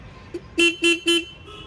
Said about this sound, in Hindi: हॉर्न्स की आप एक बार आवाज़ सुनो